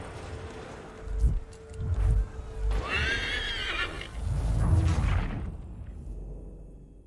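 A horse whinnies loudly in Assassin's Creed 3 Remastered, a rising and falling neigh in the middle of the moment, framed by hooves clip-clopping and low rumbling game ambience before and after.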